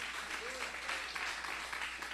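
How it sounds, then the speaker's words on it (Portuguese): Congregation applauding during a church sermon, a dense, steady wash of clapping from many hands that fills the whole moment, with a faint voice briefly audible underneath. "Aplauda ao Senhor,"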